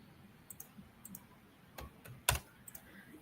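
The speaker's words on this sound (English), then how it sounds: "let me just type it in the Google form" Keys clatter on a computer keyboard as someone types an entry into a Google form, with sparse, irregular clicks and one sharper, louder strike near the end, set against a quiet room.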